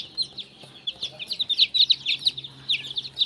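Black Australorp chicks give rapid, high, overlapping peeps close by. The chirps come in continuous busy bursts with a faint low background hum.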